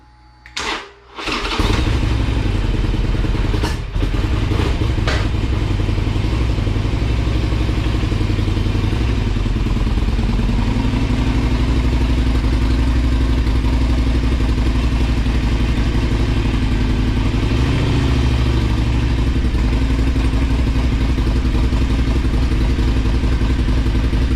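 A motorcycle fitted with Viking saddlebags cranks and fires up, then settles into a steady, loud, close idle that runs without pause.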